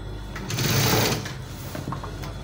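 A sewing machine stitches along a curved V neckline, running in one short close burst of rapid mechanical whirring that eases off, with no talking.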